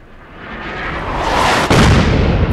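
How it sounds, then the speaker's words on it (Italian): Artillery cannon firing in modded Fallout 4: a rushing roar builds steadily, then a sharp heavy blast hits and rumbles on loudly, with no speech. "Vediamo il cannone se spara."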